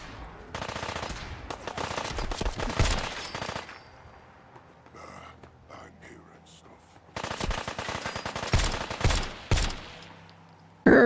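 Loud automatic gunfire in the video game Fallout 4, rattling bursts for a few seconds, a quieter stretch with scattered faint sounds, then another heavy volley with sharp single shots near the end.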